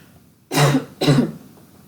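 Two sharp coughs in quick succession, close and fairly loud, separated by a short pause.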